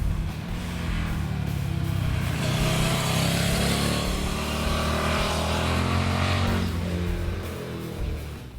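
A 2016 Suzuki SV650 motorcycle engine runs close by with a steady, loud, rough rumble, swelling and easing slightly as it pulls away on the road, with no talk over it.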